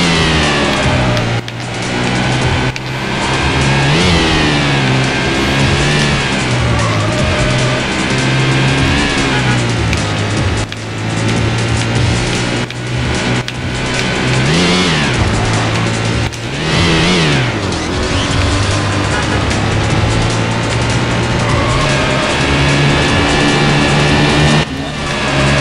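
Nissan R34 GT-R racing in Need for Speed: High Stakes on PC, its mid-pitched engine revving and shifting steadily and loudly throughout, with occasional tire squeals and the pitch rising and falling as the car accelerates.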